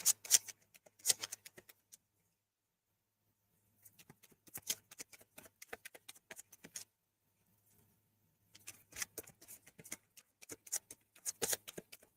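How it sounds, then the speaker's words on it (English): Tarot deck being shuffled: bursts of crisp card riffling and flicking in two main runs with a quiet pause between, close and fairly soft, no talking. "I'm going to shuffle it one more time here."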